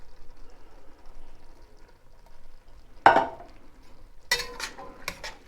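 A spoon stirs a pot of chili with undrained canned red kidney beans, giving one sharp clink followed by a short burst of scraping and knocking against the pot after a quiet stretch.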